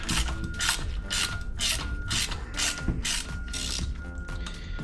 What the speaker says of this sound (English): It feels like something is grinding in there, even when I move it to one direction.